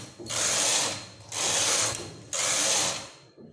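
Knitting machine carriage sliding across the needle bed in plain rows of baby wool for a baby romper, three loud, even mechanical passes with short pauses between them, heard alone.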